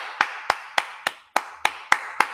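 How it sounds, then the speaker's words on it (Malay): Audience at a business motivational event clapping in unison, eight sharp, evenly spaced claps about a third of a second apart, close and clear with no talk over them. "Tepukan sekali lagi."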